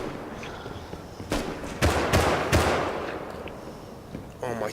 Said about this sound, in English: They're just fucking running like Bruce Willis in the background shooting